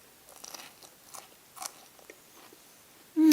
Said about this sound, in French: Goûte le céleri à la croque